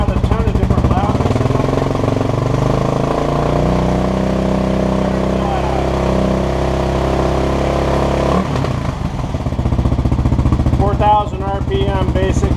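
A 2015 Kawasaki KLR 650 motorcycle fitted with a Lexx exhaust runs loud and close, a steady throbbing engine note that shifts abruptly partway through before settling back into a rumbling idle.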